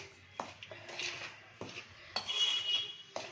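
Dry fruits stirred together in a bowl for sunnundalu, a quiet, sparse series of soft clinks and scrapes of a spoon against the dish, close and faint with no voices.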